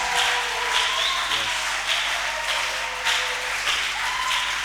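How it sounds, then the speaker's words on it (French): A church congregation applauding and cheering in praise during a worship service, a dense steady wash of clapping that fills the room continuously from start to finish. "Donne une bonne acclamation pour la gloire de Dieu."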